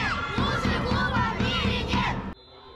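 Spectators in the stands shout and cheer at a youth football final, a loud crowd roar with rising calls and whoops that breaks off abruptly near the end.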